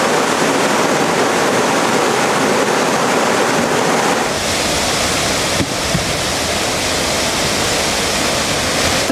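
Turbulent, icy river water on the Crișul Pietros roars during rafting, loud and close as a steady broadband rush that continues without a break.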